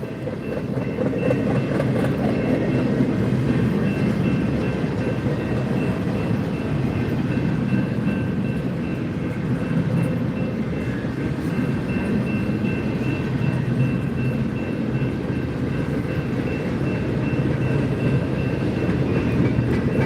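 A train rolls past on the Transcon line, a steady loud rumble of wheels and rail noise with faint clickety-clack that holds unbroken throughout, no talking.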